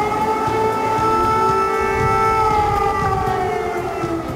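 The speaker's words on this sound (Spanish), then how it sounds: "12 meses desde que sonaran por primera vez esas sirenas" Air raid civil defense sirens in Ukraine wail steadily with a sustained, slightly wavering tone, loud and continuous throughout with no talk.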